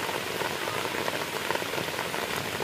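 Heavy rain pours onto a home courtyard in a dense, unbroken patter of drops, close and steady throughout with no voices.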